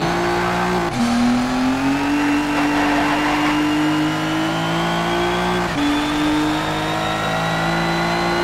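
A race car engine in Need for Speed Shift 2 revs hard and climbs steadily in pitch, dropping sharply at two gear shifts before climbing again, loud and continuous throughout.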